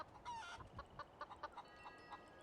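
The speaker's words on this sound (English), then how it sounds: "Granny snatches chicken out of the pen, snaps his neck before it" Chicken clucking in a video game cooking stream, a run of short, bright clucks and squawks in an uneven rhythm, fairly close and alone with no talking.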